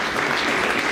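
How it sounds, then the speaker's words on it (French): An audience at a cheese brotherhood's grand chapter ceremony claps for the future inductees in a brief, dense burst of applause, steady and close. "si vous voulez bien applaudir les futurs impétrants"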